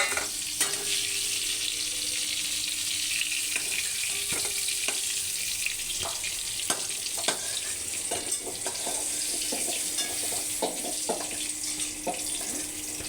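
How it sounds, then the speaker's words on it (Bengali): Whole pointed gourds sizzle steadily in hot oil, a continuous crackling hiss with frequent clicks and scrapes of a utensil stirring the pan. "নাড়িয়ে চাড়িয়ে ভালো করে পটলগুলোকে ভেজে নিতে হবে"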